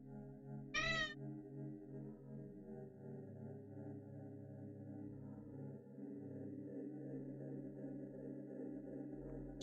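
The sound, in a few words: cat meowing in the video game Impostor Factory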